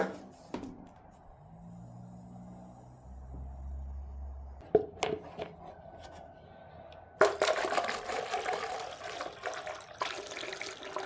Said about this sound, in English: fill this up with water and see if it's able to enter this